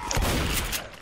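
Gunfire from the Left 4 Dead zombie shooter game fills a short, loud, dense burst of sharp reports that rattle on continuously for about a second, with no talking.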